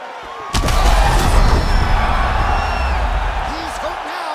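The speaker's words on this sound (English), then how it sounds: "the crowd pops in appreciation as the fighters work their way back" A virtual arena crowd in the UFC 5 video game roars in appreciation during a grappling exchange in an MMA bout, a loud burst that swells suddenly and then holds as a sustained wash of cheering and whoops.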